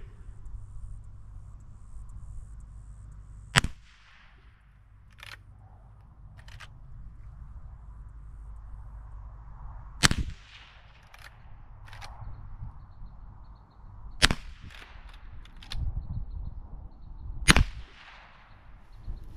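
Five sharp, separate shots from a Marlin Golden 39A lever-action .22 rifle, spaced several seconds apart outdoors, with quiet low rumble between them.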